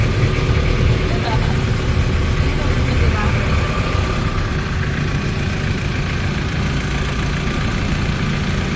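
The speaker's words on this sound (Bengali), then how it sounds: "ধীরে ধীরে এগিয়ে যাচ্ছে আমাদের লংটেল বোট" A long-tail boat engine drones steadily and close by as the boat moves slowly along off Phi Phi Island in Thailand, a continuous low rumble that runs the whole time beneath people talking.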